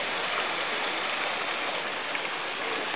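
In a landscaped backyard, a stream and waterfalls produce a steady, even rush of falling and splashing water, constant throughout and fairly close.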